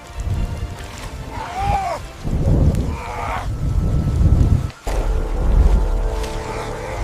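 Heavy rain pours in a dense, steady roar while deep thunder rumbles swell and fade through it, loud and enveloping, with a sudden brief drop in the noise just before the downpour surges again.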